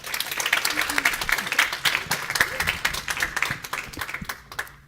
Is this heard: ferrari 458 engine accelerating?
no